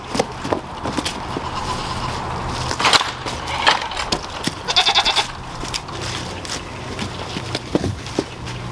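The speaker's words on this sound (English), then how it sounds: "let's go see what the goats think of our costumes." Goats bleat a few times over a rough, noisy outdoor background with scuffs and rustling, the calls coming at irregular moments.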